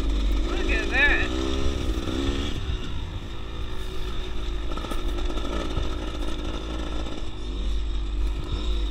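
Small dirt bikes ridden by young kids buzz nearby with a steady high-pitched engine drone, revving up and easing off as they ride, while an adult voice talks over the engines.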